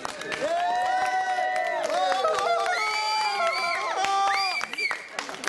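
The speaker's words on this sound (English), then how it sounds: "So everyone, a massive round of applause for yourselves." An audience bursts into cheering, whooping and applause, a loud sustained crowd roar with excited shouting voices layered throughout.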